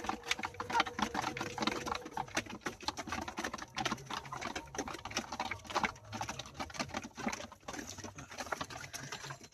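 A flock of month-old broiler chickens pecks feed rapidly, making a fast, dense patter of small taps and scratching, fairly quiet and close, with faint clucking and no talk.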